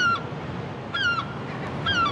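Seabirds that have settled in Paris call in alarm, three loud, harsh descending cries at a steady pace, close by with no one talking.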